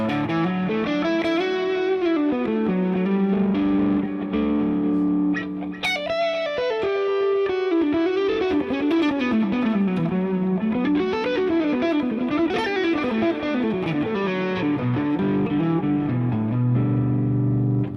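An electric guitar runs through a Fractal AM4 overdrive, voiced with less low end and stronger mids, playing loud, continuous distorted lead lines and chords with no talking.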